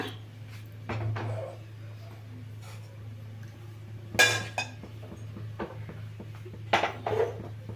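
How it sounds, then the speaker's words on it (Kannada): A metal frying pan is set down on a home stove, giving a few light clanks and clinks against a steady low hum, with quiet kitchen handling around it. "ನಾನು ಇಲ್ಲಿ ಬಾಣಲಿ ಇಟ್ಕೊಂಡಿದ್ದೀನಿ"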